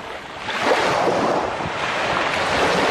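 Sea waves wash steadily onto a beach of sand and small pebbles at a Greek hotel in Nea Potidea, a continuous close roar mixed with wind buffeting the microphone.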